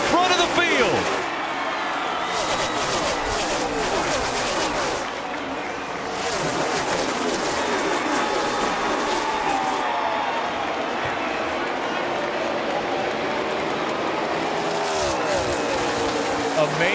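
Crowd of about 60,000 roars at a NASCAR Sprint Cup race at Homestead-Miami as 43 stock car engines blare nearby, a loud continuous mix with commentary talking over it.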